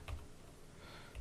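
Quick keystrokes on a computer keyboard, close and fairly quiet, with a light clatter at the start and end of the short burst.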